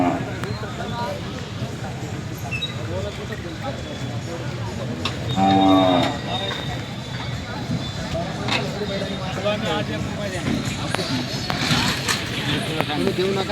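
At a crowded Nampur bullock market with Khillar bulls, one loud, drawn-out moo rises midway over constant crowd chatter and bustle, with people talking throughout.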